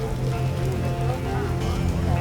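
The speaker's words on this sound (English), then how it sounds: "Slashing rain like a seasoned killer." Heavy rain falling steadily in The Witcher game, a dense continuous hiss with a low droning music bed underneath for the whole short stretch, without pause.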